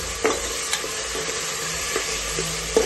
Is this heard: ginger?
yes